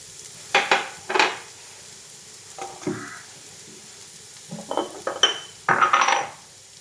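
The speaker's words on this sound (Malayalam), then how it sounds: "കുറച്ച് ഉപ്പ് ഉള്ളിയും ക്യാരറ്റും നല്ലതുപോലെ വാടിക്കുന്നു" Onion and carrot sautéing with salt in a pan, close and fairly loud. A utensil scrapes and clinks against the metal in irregular bursts over a soft, steady sizzle, with no voices.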